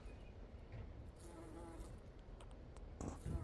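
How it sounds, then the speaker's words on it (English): A bee buzzes faintly among spring flowers outdoors during an evening walk, its thin drone sitting low under steady wind and ambient noise, with brief louder rustles near the end. "Gotta be careful. There's a bee."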